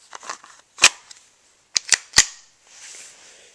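Several sharp, loud pops from a WG CO2-powered Colt 1911 airsoft pistol: one single shot, then a quick burst of three, with faint handling clicks and a soft gassy hiss afterward.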